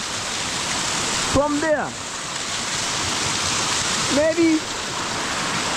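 Waterfall at a bathing spot, a broad steady rush of falling water filling the background while a voice speaks briefly and two whistling bird-like calls rise over it.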